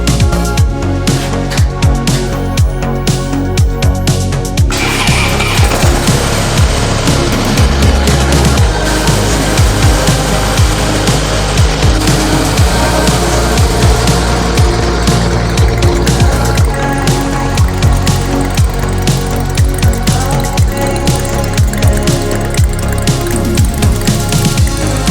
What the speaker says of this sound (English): we gotta get this motor in operating temp, so we need to let it run for 1 to 2 minutes at idle